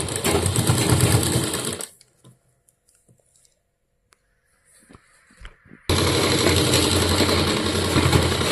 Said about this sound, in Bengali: এবার এরকম করে এইটুকুটা সেলাই করতে হবে।